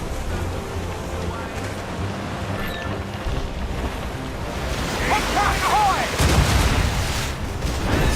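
Ship cannons fire in the Assassin's Creed Rogue video game over a constant wash of wind and sea, with heavier booming blasts building toward the end.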